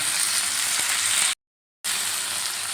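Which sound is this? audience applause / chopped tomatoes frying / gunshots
chopped tomatoes frying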